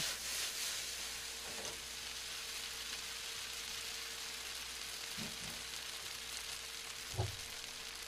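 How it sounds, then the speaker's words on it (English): Vegetables for a vegetarian Thai curry frying in oil in a pan, a steady soft sizzle and hiss that runs unbroken throughout, with a few faint stirring clicks and no talking. "I just want to let these fry up for a minute or two"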